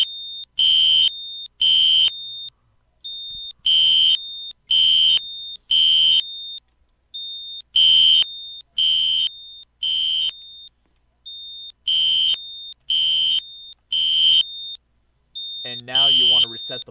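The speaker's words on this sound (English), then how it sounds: "And now, let's set off the alarm." A Roblox fire alarm system blares in repeated loud, high electronic beeping bursts, roughly one per second in groups, with a short voice at the very end.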